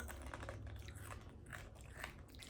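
Someone bites into and chews a hard, spicy, Bugles-like Asian snack up close, giving brief crisp crunches over a couple of seconds with no talking.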